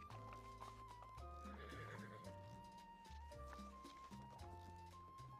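Horses whinny and neigh in the Red Dead Redemption 2 game world, with clip-clop hooves and a busy layered game soundtrack of tones and effects running steadily throughout.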